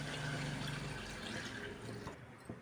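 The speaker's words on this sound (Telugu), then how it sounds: "ఇప్పుడు మనము వాటర్ వేసుకోవాలి ఫ్రెండ్స్." Water streams steadily into a pressure cooker pot of oily gongura mutton curry, a close continuous pour that stops shortly before the end.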